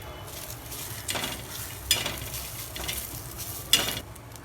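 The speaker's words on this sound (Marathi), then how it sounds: "कांदा भाजत भाजत आला ना तर हे बघा लसण आणि अद्रक आहे हे भाजून घ्यायचंय" Garlic and ginger fry in oil with onion in a pan for kharda chicken, a close steady sizzle broken by a few sharp scraping stirs of a spoon against the pan.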